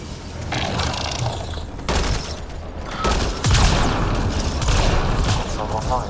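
Sustained gunfire in the sci-fi shooter Mass Effect Andromeda during a firefight at a hangar console, rapid overlapping shots and booms throughout, with game dialogue over the combat.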